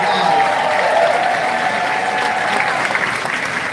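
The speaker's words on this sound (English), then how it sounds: "Please give yourselves a round of applause." An audience at a live entertainment show in Los Angeles applauds, a steady wash of clapping with a faint voice running beneath it.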